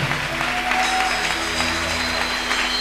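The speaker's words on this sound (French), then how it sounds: "Acclamons le Seigneur très fort." A church congregation claps together in a steady, dense wash of applause that holds evenly throughout, heard from within the room.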